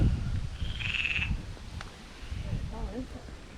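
Frogs croak from a pond bank in a garden, faint rippling calls in the background, partly under nearby rustle and handling noise, with a brief high whistle-like tone early on.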